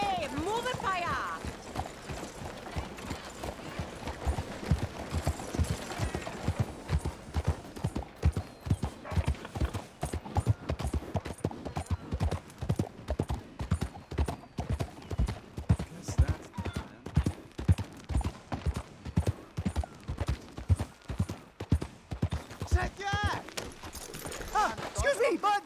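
A horse gallops in the Red Dead Redemption 2 video game with rapid, rhythmic hoofbeats thudding close and steady throughout, while voices talk over the galloping.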